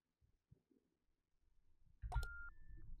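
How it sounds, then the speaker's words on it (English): A phone rings in the horror game Observation Duty 6, hotel setting: a sharp electronic beep followed by a sustained tone, loud against low rumbling background noise. "Oh, the phone again."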